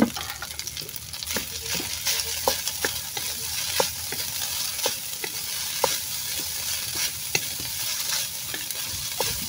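Rice is stir-fried in a pan for Filipino sinangag garlic fried rice, with a steady sizzle under repeated sharp scrapes and clacks of the spatula, close and fairly loud.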